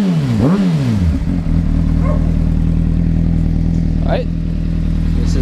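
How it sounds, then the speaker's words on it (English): A Honda CBR600RR sport motorcycle engine revs up sharply a few times from a steady idle, with loud, close throttle blips over a constant engine drone and some talking. "So I'll rev it for you guys."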